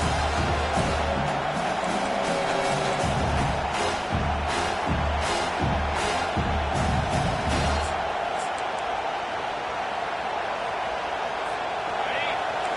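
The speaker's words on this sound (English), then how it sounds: "Listen to this crowd just shaking the girders of this place, trying to help their defense." A large college football stadium crowd roars in a dense, steady wall of noise, with rhythmic thumping in the first half that fades away.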